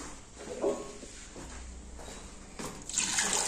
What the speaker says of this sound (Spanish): le vamos a poner agua de modo que cubra nuestra carne